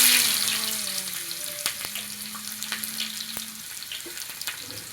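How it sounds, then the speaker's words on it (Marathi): Onions frying in oil, a bright crackling sizzle that starts loud and gradually settles, with a faint steady tonal hum underneath and a few sharp spatters, close with no speech. "आता इथे कांदे तळून घेऊया."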